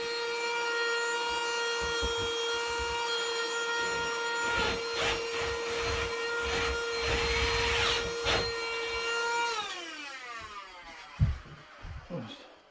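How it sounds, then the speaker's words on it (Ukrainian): A handheld vacuum cleaner runs with a loud, steady whining tone during drywall shelf mounting, then winds down near the end, followed by a few close clunks. "пилосос такий ручний."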